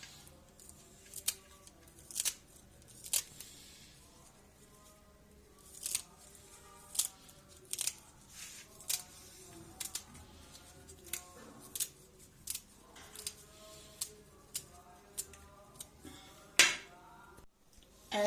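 A knife finely chops vegetables on a board for mooli paratha, giving a long series of crisp, fairly quiet chops in uneven bursts with short pauses between them.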